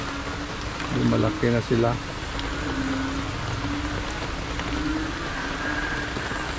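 Steady rain falls throughout, a constant hiss with a voice talking over it near the start.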